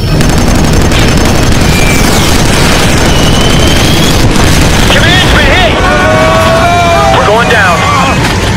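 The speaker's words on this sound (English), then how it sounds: "Command, we got major AA resistance on this one. Heavy missile fire incoming." Heavy missile fire and explosions in Killzone 3, a loud, dense barrage of booms and rumbling blasts with whistling projectiles, continuous and close, with radio chatter layered over the chaos.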